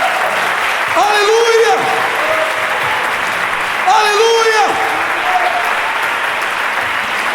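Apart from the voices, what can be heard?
church congregation applause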